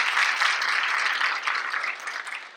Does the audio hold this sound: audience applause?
yes